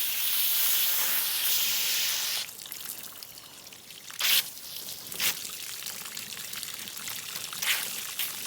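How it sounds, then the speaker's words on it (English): Cold water pours and rinses excess dye out of tie-dyed fabric outdoors, a steady hissing stream at first, then intermittent splashes and trickles. "you just have to gradually get it wet and wash all that dye out."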